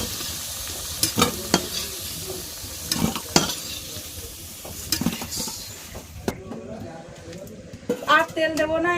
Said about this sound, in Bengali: আলুটা তুলে নেব, আলুটা কিন্তু ভাজা হয়ে গিয়ে